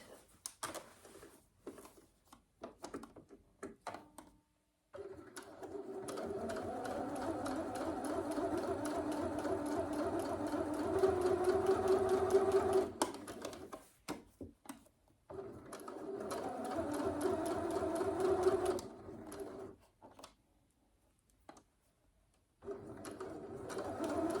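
A home sewing machine stitches a dress bodice in bursts: a steady whirring motor run of several seconds, a pause, then another long run and a short final burst, with quiet handling clicks in the gaps.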